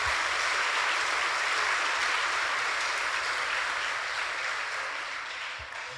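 A church congregation applauds during a sermon, a dense sustained wash of clapping from many hands that fills the space and slowly fades toward the end.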